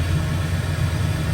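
A Toyota T-100 truck engine idles steadily, a low continuous rumble holding even with no voices over it.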